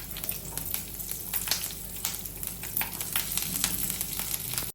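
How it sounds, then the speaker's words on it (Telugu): Green chillies fry in about two teaspoons of hot oil in a pan for tamarind chutney, with a steady close crackling sizzle and small popping bursts throughout. "పచ్చిమిరపకాయలు మంచిగా వేగనివ్వాలి."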